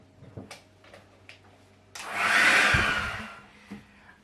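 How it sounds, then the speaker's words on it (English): After a few soft knocks, a hair dryer switches on and blows on butter to soften it for sfogliatelle dough. Its loud, close whoosh lasts under two seconds, then cuts off. "We're gonna blow dry it with the hair dryer to soften it up."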